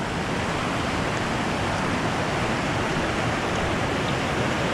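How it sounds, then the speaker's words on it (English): Small cascades on a river on Vancouver Island, Canada rush in a steady, dense broadband roar, close and continuous with no pauses and no voices. "A couple nice little cascades, which could make for a nice foreground for a photo."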